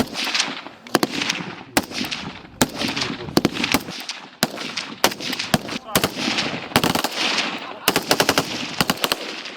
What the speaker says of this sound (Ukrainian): Десять пострілів по готовності одиночними. Вогонь, вогонь!